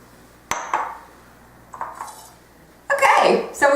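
Ceramic dishes clink and scrape as baked cake rounds for a Baked Alaska are set in their centers, a few close knocks followed by a louder rattling shuffle of plates at the end.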